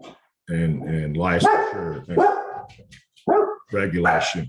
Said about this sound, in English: Please excuse my dogs.